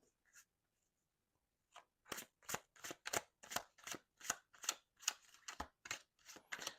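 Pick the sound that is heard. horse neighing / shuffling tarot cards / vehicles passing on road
shuffling tarot cards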